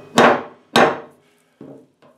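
Two loud close hammer blows strike a welded axle part, followed by two lighter taps that ring briefly in a quiet shop.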